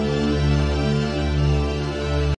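A short music sample pitched up 400 cents with no effects, sustained bright tonal layers sounding higher than natural, playing steadily for a couple of seconds.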